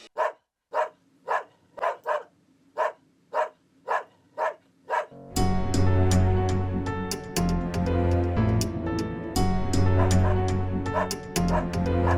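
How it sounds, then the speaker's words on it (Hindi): A dog barks in a steady series of sharp yips with short gaps, then loud music takes over and the barking stops. "ये तो ब्रूनो की भौंकने की आवाज लगती है।"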